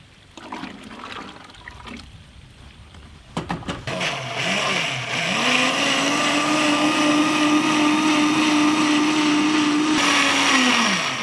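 After a few clicks and thumps, a blender starts up and whirs loudly and steadily for about six seconds, mixing a Dark Fantasy chocolate milkshake, then cuts off abruptly.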